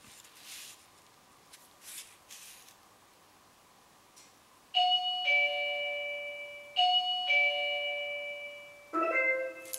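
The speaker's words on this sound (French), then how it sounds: "Le bouton de la sonnette a été appuyé, quelqu'un a sonné à l'interphone." A two-tone electronic intercom doorbell chime rings three times in a row, each ding-dong clear and ringing out, after a few soft rustles and faint background noises.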